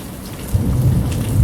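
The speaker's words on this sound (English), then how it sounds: "So this rain right here is going to really help" Monsoon thunderstorm rain in the Arizona desert during August, a steady loud wash of rainfall with a deep rumble of thunder swelling midway and continuing beneath the downpour, with no voices.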